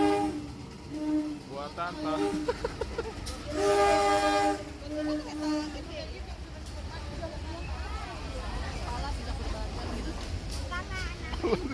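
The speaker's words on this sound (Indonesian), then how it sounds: "Nah, ini dengan gerbong CC 211" A train hauled by a CC 211 diesel locomotive passes with a steady rumble and a long, loud horn blast, while someone talks over it throughout.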